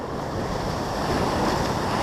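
Surf churns against the rocks at a rock fishing ledge, a loud, unbroken wash of ocean waves with gusts of wind rumbling across the microphone.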